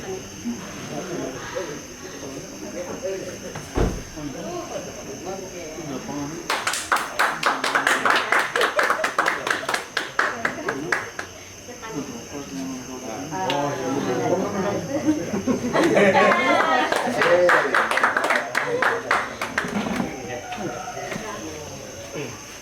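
Audience at a digital literacy workshop award ceremony applauding in two bursts of clapping, each lasting several seconds, over a moderately sized room, with talking before, between and after the applause.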